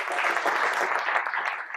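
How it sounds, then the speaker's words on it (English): Audience applause after a magic trick, a dense, steady wash of many hands clapping that fills the whole moment at even loudness. "Give him a big round of applause."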